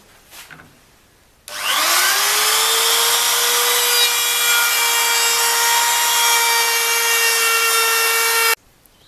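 Wood router cutting oak pallet wood, starting abruptly after a short quiet moment, then a loud, sustained high-pitched whine for about seven seconds before cutting off sharply.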